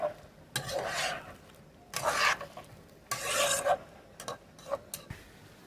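A spatula stirs and scrapes spice paste with tomatoes in a pan over low-to-medium flame for a Bengali katla fish curry, giving rhythmic, close scraping strokes in uneven bursts with a faint sizzle and no talking.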